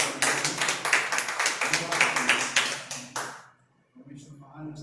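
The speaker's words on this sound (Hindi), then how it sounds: "एक बार जोरदार ताली हो जाए हमारे कलीसिया के।" A church congregation at a Hindi-language service claps together in strong, quick, steady beats for about three seconds before stopping, followed by a voice speaking.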